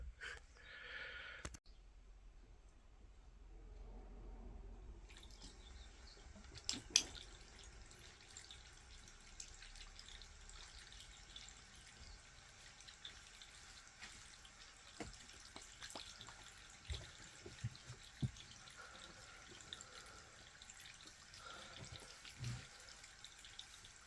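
A steady, soft hiss of water running from a garden hose continues for a long stretch, with occasional faint clicks and splashes, fairly quiet and without voices.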